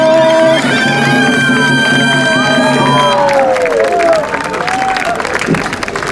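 A crowd at an outdoor seaside festival game applauds and cheers a new winner, with loud sustained clapping, whoops and children's shouts blended under an amplified announcer's voice.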